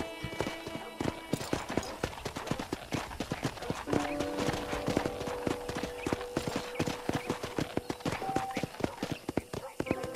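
Horse hooves clip-clop in a steady walking rhythm in the video game Red Dead Redemption, close by and crisp, with a voice speaking over part of it and a brief whinny.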